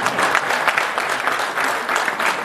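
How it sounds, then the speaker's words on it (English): Brisk audience applause at a church gathering, steady dense clapping throughout, close and fairly loud with no talking over it. "Can the two of you just give them a round of applause?"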